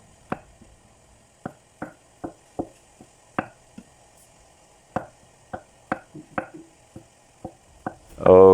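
A knife chops mushrooms on a cutting board for a bamboo shoot stir fry, giving about a dozen sharp, irregular thuds with quiet gaps between, close and clear. A brief loud burst comes at the end.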